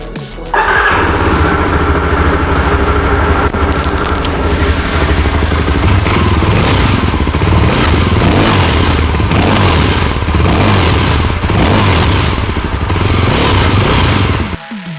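A 2022 Yezdi Adventure motorcycle engine running loud and close, a steady rumbling idle with slight revving and no talking.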